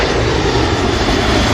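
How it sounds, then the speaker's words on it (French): An airplane flies in to land near an airport, its engine roar loud and steady throughout, with a voice talking over it. "Regarde là par exemple t'as un avion qui vient."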